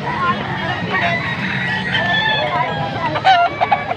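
Roundhead gamefowl stags crow and cluck among other chickens at a fowl market in Angeles, Pampanga, several birds calling over a background of chatter and speech.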